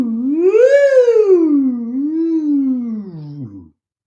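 A voice imitates a balloon whistling down through the air, a single sliding tone that rises, then wavers and sinks steadily before cutting off, close and alone.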